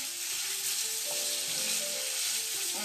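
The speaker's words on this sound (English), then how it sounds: "So just stir that round until everything's incorporated, mixed well in." Ingredients for Portuguese Caldo Verde soup sizzling in a pot while being stirred, a steady bright frying hiss that stays even and close.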